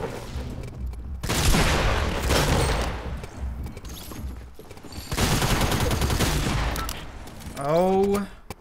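Gunfire in Fortnite Mobile comes in two dense, loud bursts of rapid shots separated by a quieter gap, followed by a short rising mechanical whine near the end.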